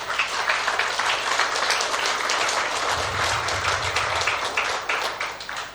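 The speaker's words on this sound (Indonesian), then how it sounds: "Beri tepuk tangan buat Tuhan." A church congregation claps for God, a dense and steady wash of hands from many people in a hall, moderately loud, with a low rumble beneath it midway.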